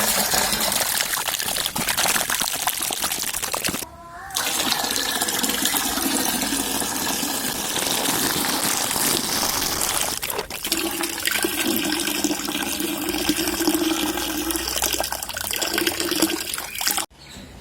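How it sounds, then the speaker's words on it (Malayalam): Rusty orange water pours out of a cleaned water tank in a steady, loud gushing rush, broken by two short gaps, with trickling near the end. "ടാങ്കിൻ്റെ ഉള്ളിലെ തുരുമ്പാണ് ഈ പോണത്. നല്ല ഓറഞ്ച് കളറിലെ വെള്ളം."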